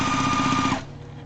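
A sewing machine runs briefly, stitching fabric scraps together with a rapid, buzzing chatter, then stops abruptly, leaving near silence.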